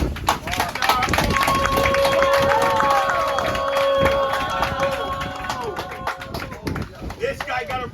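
A small crowd claps and cheers at a gathering in the Philippines, a dense flurry of hand claps over about eight seconds, with a sustained tone and voices running through it before tapering off.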